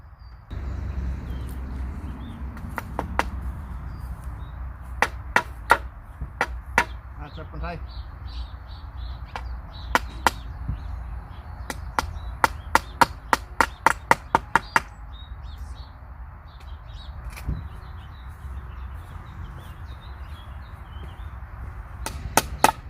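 Sharp hammer blows ring out in irregular bursts, some in quick runs and others singly, while outdoor birdsong and a low background rumble carry on underneath in a vegetable garden.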